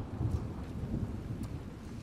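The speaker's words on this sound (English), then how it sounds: "that thunder is loud" Loud, deep rolling thunder in The Last of Us Part II, a sustained low rumble with patters of rain over it and no voices.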